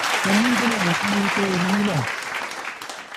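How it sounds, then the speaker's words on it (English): Audience applause at a welcome program in the Philippines, sustained clapping with a voice talking over it during the first two seconds, then the clapping carrying on alone and slightly softer. "Let's give a big round of applause to Mrs. Grace Mayo."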